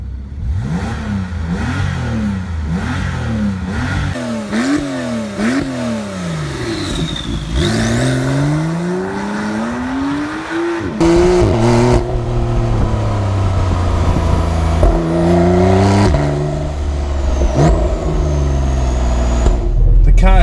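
A 2016 Porsche 911 Carrera (991) with sports exhaust revs repeatedly, pitch climbing and falling in throaty bursts, then a long acceleration with a deep rumbling exhaust, loud and close throughout.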